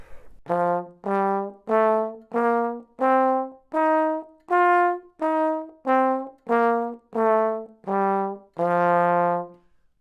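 A musical scale played note by note on a brass-like instrument, eleven detached tones rising then falling, evenly spaced and clear, ending on a longer note.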